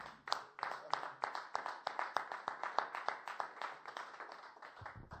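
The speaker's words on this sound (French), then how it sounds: "Est-ce qu'on peut acclamer la parole de Dieu" Church congregation clapping together in steady, rhythmic applause, a dense run of sharp hand claps repeated evenly for several seconds, close and lively, fading at the end.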